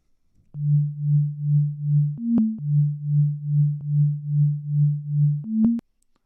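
A low synth tone pulses in a steady rhythmic swell from LFO volume modulation, volume rising and falling about twice per second, with two brief higher notes between passes.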